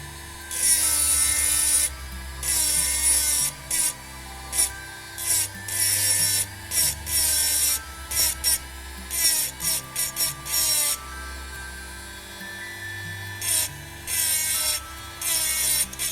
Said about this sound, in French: petite perceuse électrique et avec une pointe diamant